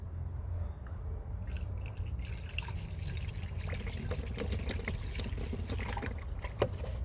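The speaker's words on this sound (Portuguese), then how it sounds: "Vou botar água aqui no reservatório." Water poured into the coolant reservoir of a Fiat Palio as trapped air bubbles out of the cooling system, a soft, continuous trickle with small drips and gurgles nearby.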